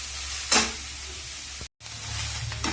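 Onions sautéing in a pan for onion chutney on a home stove give a steady, close sizzle with a brief stirring scrape, then a short drop to silence before the frying hiss resumes.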